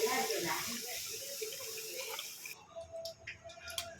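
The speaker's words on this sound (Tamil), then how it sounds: "இதில் வந்து பால் ஒரு இரநூறு பால் ஊற்றிக்கும்" About two hundred millilitres of milk are poured into a kadai on a stove, a close continuous pour for roughly two and a half seconds, followed by quieter clinks and handling sounds.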